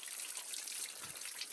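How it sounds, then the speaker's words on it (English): Water running off a caravan roof and out of the chassis after rain, a faint, steady trickling splash from nearby with no talk. "Just thought I'd let the front of the caravan out a little bit, getting some of the water off the"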